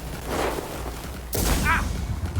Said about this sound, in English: he's sniping us right now